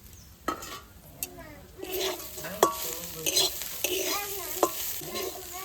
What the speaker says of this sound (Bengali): শাক ভাজাটায় মাছ ভাজাটা দিয়ে দেবো